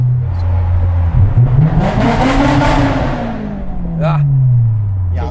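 A Honda S2000 sports car engine revs loudly, its pitch sweeping up and falling back through a tunnel-like space, with a second rising rev near the end and some talk underneath.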